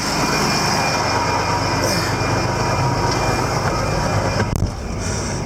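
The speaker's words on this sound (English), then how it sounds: "my tractor's gonna do its calibration" A tractor running its calibration in the mud gives a steady, loud mechanical roar with a constant low rumble and a brief clunk near the end, alone without talk.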